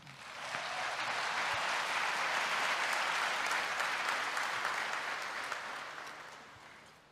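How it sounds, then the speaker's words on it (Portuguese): A church congregation applauds their pastor, steady dense clapping that swells in after a half second, holds evenly, then tapers off near the end, with no speech over it. "Aplaude o nosso pastor aqui."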